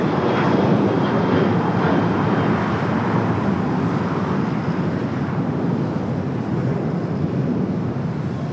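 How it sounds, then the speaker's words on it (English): An EVA Air airliner bound for Taipei takes off from the south side of LAX. Its engines make a steady, broad jet roar at a distance that holds loud and even throughout, with no voices. "we do have Eva taking off there on the south side."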